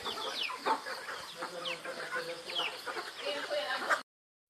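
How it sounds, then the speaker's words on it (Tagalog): Chickens clucking and chattering in a farmyard, a steady run of short, close clucks from several birds with no voices over them. "Yun o, mga manok po, manok. Manok talaga yun."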